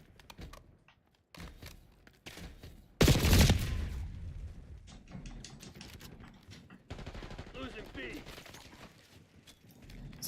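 Bursts of AK-74 gunfire from Black Ops 6 multiplayer gameplay: a loud, dense volley of shots around the middle, then scattered fainter shots and game noise running on, with a voice talking over parts of it.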